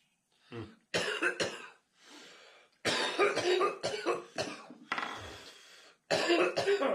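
Repeated hacking coughs come in close, loud bursts, with a few throat-clearing sounds between them.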